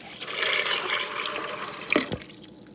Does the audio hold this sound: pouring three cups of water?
yes